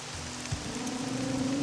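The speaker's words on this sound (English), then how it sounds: "And there was even the rain. Lots of rain." Rain falls steadily in Morrowind, an even, hissing wash heard alone under a low tonal drone.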